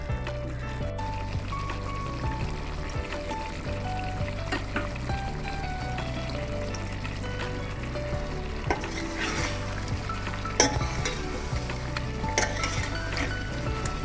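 Chicken frying in oil with whisked yogurt, red chili powder and black pepper, sizzling steadily while a spoon stirs and scrapes the pot, with occasional clinks of metal, and no one speaking.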